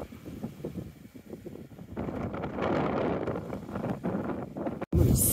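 Wind sweeps sand across a beach in the Magdalen Islands near Cap-aux-Meules and Havre-Aubert, a steady rushing roar with gusts buffeting the microphone, loud and close with no voices.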